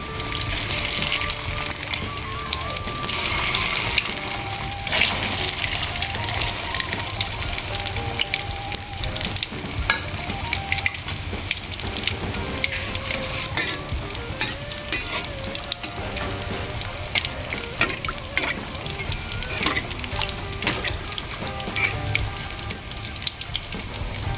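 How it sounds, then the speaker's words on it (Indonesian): Noodle balls deep-frying in hot oil over medium heat, a steady dense sizzle and crackle that continues at even loudness throughout, with no talking. "Kemudian kita goreng aja dengan minyak yang udah panas, pakai api yang sedang."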